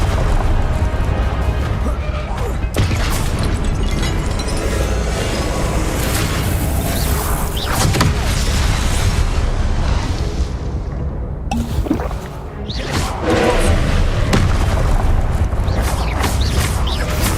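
Incendio fire spell blasts from the video game Hogwarts Legacy crash and boom repeatedly amid dense, loud combat noise, with a short lull near the middle before the bursts resume.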